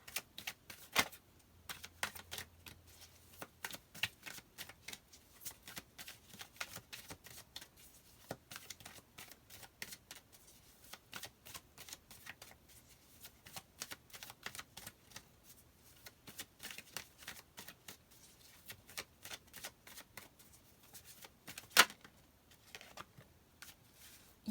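Tarot cards being shuffled by hand: a long, steady run of quick soft riffling and flicking clicks, quiet and close, continuing with no talking.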